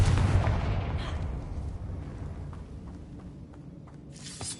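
A Confringo explosion spell goes off in a Harry Potter video game, a loud booming blast at the start that rumbles and fades over several seconds, with a sharp crack near the end.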